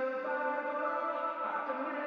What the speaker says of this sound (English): it's just a reverb situation